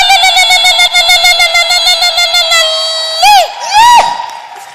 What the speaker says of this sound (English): That one you don't know what it means, but it's called ululation.